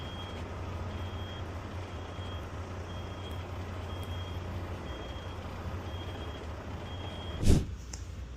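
A semi truck backs up toward a trailer while its reversing alarm beeps at a steady, even rhythm over the low idling engine. A short burst of air brake near the end stands out, and no one speaks.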